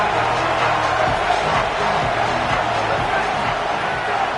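A Red Raider college football crowd roars steadily on a third-down play, a dense sustained wall of cheering and whoops with a voice talking over it.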